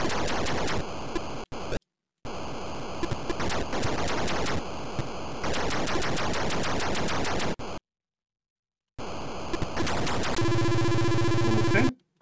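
Atari 2600 Defender game audio blares loudly in harsh, rapid bursts of noisy explosions and crackling fire, cut by abrupt silences, ending in a buzzing electronic tone, with no voices.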